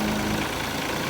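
The diesel engine of a FINN B70 straw blower runs at idle, a steady, close, continuous low rumble with an even hum and no voices over it.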